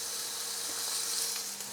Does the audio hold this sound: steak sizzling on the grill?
yes